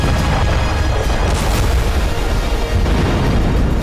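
News footage of an explosion in Tver: a loud, continuous deep roar and rumble with a heavy low-end boom that fills the whole stretch without letup.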